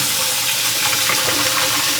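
Water pours over eggs and ice cubes in a bowl, giving a loud, continuous splashing rush that stays even from start to finish, with no talking.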